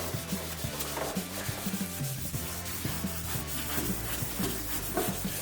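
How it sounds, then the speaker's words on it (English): Small block rubbing clear coat by hand on a Ford F-250, sanding out a paint run in steady close back-and-forth strokes, continuous and moderately loud with no talk. "I'm sanding out this run that we were talking about earlier"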